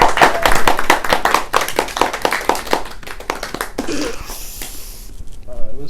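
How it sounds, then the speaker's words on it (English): Loose round of hand clapping for a poet after a poetry reading, a few listeners clapping closely with distinct irregular claps, then tapering off into faint room noise. "Let's give a round of applause to Gwen."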